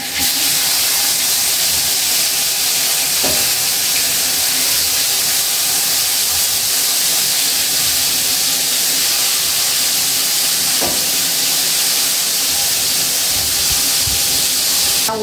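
Flour-dusted salted fish frying in hot oil over a low flame, a loud, steady broadband sizzle and hiss running unbroken throughout with a couple of faint clicks.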